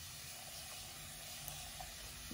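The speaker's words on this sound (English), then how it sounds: "What my water bottle? Let me spray some." A water spray bottle mists a short afro curly wig, giving a faint, steady hiss that runs unbroken for a couple of seconds with no voices.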